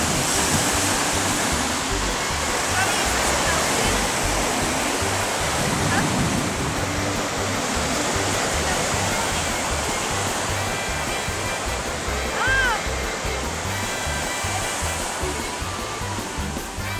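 Waves wash onto a beach of Lake Superior in a steady, loud rush of surf that fills the whole stretch as an unbroken roar, with no clear breaks between the waves.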